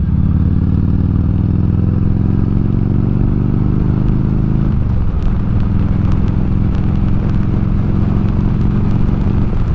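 Evo Road King motorcycle cruising gently through turns, its big engine giving a steady, loud low rumble with falling pitch as it eases off, then lighter clattery sounds and wind noise while riding on.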